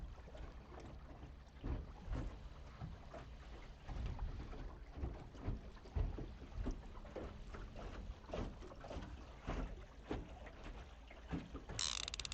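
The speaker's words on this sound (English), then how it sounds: "I hear a boat somewhere." A boat on Pishkun Reservoir in Montana drones faintly in the distance, a low, quiet hum with scattered soft mechanical clicks and taps nearby. No one speaks.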